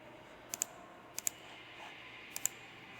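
Computer mouse clicks come in three quick pairs, sharp and close, over a faint steady room hiss, with no talk.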